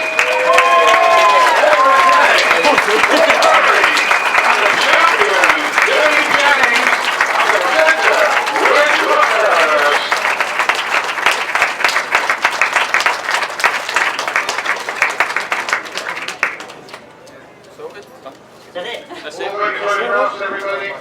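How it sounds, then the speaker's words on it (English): A crowd at the British Masters grasstrack motorcycle meeting gives podium finishers a long round of applause with some cheering, steady clapping under someone talking and other voices, thinning out toward the end. "can we have a massive round of applause, please?"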